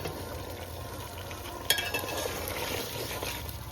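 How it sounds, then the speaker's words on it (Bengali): Fried potatoes dropped into a pot of cooking meat, a close continuous sizzle with stirring and one sharp metallic clink partway through. "ভেজে রাখা আলু দিয়ে দিচ্ছি,"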